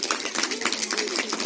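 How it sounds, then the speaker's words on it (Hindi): A crowd claps loudly at a quiz event in a dense, rapid patter of many hands that fills the whole moment, with faint voices mixed in underneath. "जोरदार ताली।"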